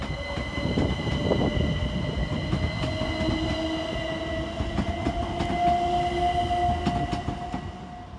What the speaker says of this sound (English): Whilst all turned around and ready to go, 387221 departs 5 minutes late for Brighton.